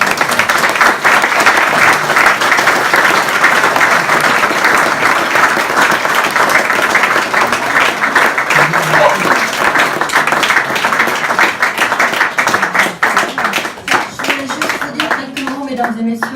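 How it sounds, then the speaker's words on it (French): An audience claps at a museum exhibition opening, a long, dense, even applause that keeps going for many seconds, loosening toward the end as voices begin to talk. "et après on peut les applaudir."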